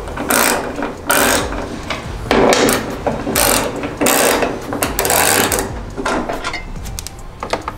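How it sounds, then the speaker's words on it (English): A ratchet wrench undoes the two 12mm bolts on a Toyota Tacoma's hood, making rapid, close pawl clicks in repeated bursts with short pauses between strokes. "But now we just have to undo those two 12mm bolts."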